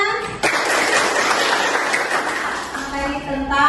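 Students applaud together in a classroom, a dense steady round of clapping that starts abruptly and carries on for a few seconds before tapering slightly.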